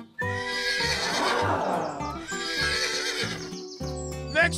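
A horse whinnies loudly with a long, wavering neigh, followed by a few hoof clops and snorts, close and clear with no talking.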